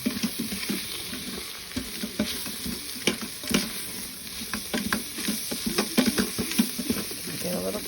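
Flour stirred into hot oil for a turkey pot pie roux, a steady sizzle with frequent spoon scrapes and taps against the pan, close and busy; no voices.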